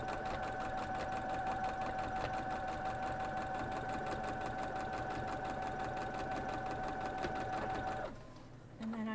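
Sewing machine stitching quilt block pieces for a Grecian Square block, running steadily and close with a fast, even mechanical whir that stops near the end.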